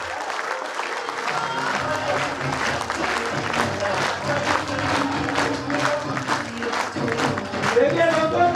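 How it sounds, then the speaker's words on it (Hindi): An audience in a hall at a company event applauds a speaker called to the stage, with loud, dense clapping that swells and holds steady throughout while a voice talks over it through a PA. "मैं मंच पे बुलाने जा रहा हूं one and only Rupesh Patidar. जोरदार तालियां"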